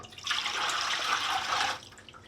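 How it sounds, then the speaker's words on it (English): Lemon juice, six cups of it, is poured into a container for lemonade as one steady, splashing stream lasting under two seconds, close and moderately loud with no talking. "So I'm going to pour that in."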